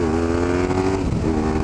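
A BMW R1150GS motorcycle fitted with a Danmoto exhaust drones steadily at a low, even engine note, close and loud with no talk.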